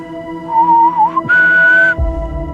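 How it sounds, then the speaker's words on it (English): A person whistles two sustained clear notes, the second higher and louder, close by, followed by a low rumble. "Time to whistle."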